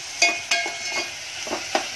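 Onion and chili frying in a pan for ghewra, sizzling up close while a spoon stirs them in short scraping strokes, several quick clatters over a soft continuous hiss.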